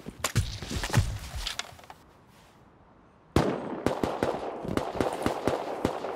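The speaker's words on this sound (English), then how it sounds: "He's shooting at the Hazzy." Video game gunfire rings out in sharp bursts of rapid shots, falls silent for about a second, then resumes with a louder volley of distinct cracks mixed with softer distant pops.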